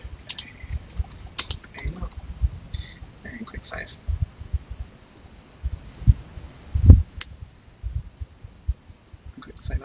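Fingers type an email address on a computer keyboard in quick irregular clicks and taps, close by, with a soft low voice murmuring in the background.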